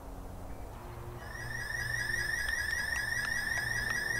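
Power plant alarm in the video game Reactor Tech starts partway through, a rapid repeating electronic warble that continues steadily over a low hum, with no talking.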